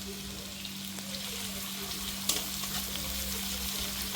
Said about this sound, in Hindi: अब इन मसालों को भी भून लेंगे।